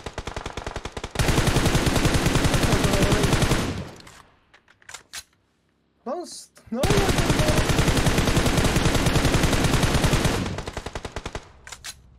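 PUBG Mobile gunfire: two long bursts of rapid automatic fire, loud and continuous, separated by a short lull with a few single shots and a brief spoken remark.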